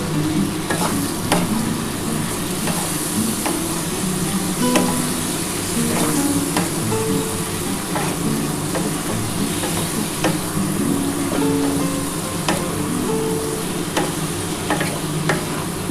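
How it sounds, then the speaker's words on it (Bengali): Kashmiri chilli powder masala stir-fried in a pan for a katla fish curry, a steady close sizzle with frequent scraping stirs, loud and continuous, no talking. "কাশ্মীরি লঙ্কা গুঁড়োটা দিলাম ভালো করে এবার কষিয়ে নিই"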